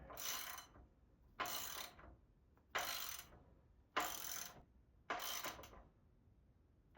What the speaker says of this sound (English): We're gonna start by just tightening it up first. with the 22 millimeter.